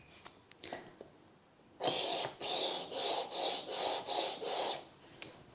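A hand plane blade is honed at an angle on a lubricated sharpening stone, giving seven even rasping strokes in a steady back-and-forth rhythm, close up, after a few light taps.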